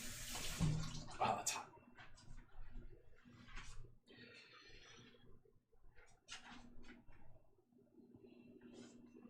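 Water runs in a kitchen sink while dishes are washed, coming in uneven splashing bursts with brief pauses and a faint voice in the background.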